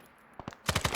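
An RPD machine gun in a video game fires a quick burst, two lighter shots followed by a rapid string of loud, closely spaced reports in steady rhythm.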